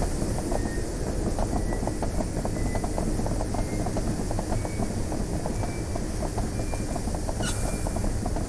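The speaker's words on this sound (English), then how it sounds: "Drone spotted." A hovering drone in the Aliens: Dark Descent video game whirs continuously with a rapid rhythmic rotor-like pulsing, loud and steady throughout.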